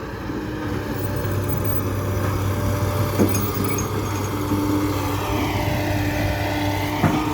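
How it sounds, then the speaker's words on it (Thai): A steady mechanical drone from a six-wheel truck's hydraulic system running low on hydraulic oil, with a low hum and whine throughout, punctuated by a couple of sharp clicks near the end. "เสียงเกลือดนี่เสียงน้ำมันไฮดรอลิกขาดแล้วนี่"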